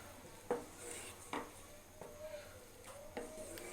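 Cumin and coriander powder stirred in a frying pan while cooking okra with prawns: a soft background sizzle with a few distinct spatula scrapes and clinks against the pan, quiet and close.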